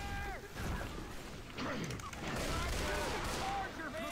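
Rapid gunfire and crashing impacts from the video game Heavy Rain, loud and dense, with a player shouting excitedly over the shots.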